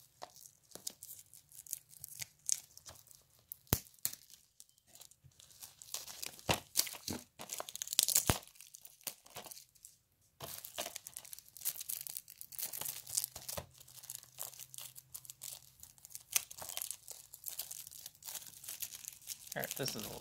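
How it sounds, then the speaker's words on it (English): Plastic wrap being peeled off a PS4 game case for School Girl Zombie Hunter, close crinkling and tearing in scattered bursts with sharp snaps, a voice speaking now and then. "Now let's take off this plastic."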